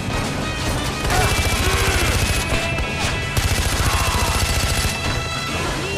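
Rapid, loud gunfire cracks in Far Cry 4, including pistol shots, forming dense bursts amid chaotic combat noise throughout.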